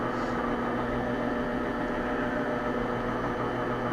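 Electric mixer whirring steadily through brownie batter in a home kitchen, a constant droning motor hum with no pauses, fairly quiet and close.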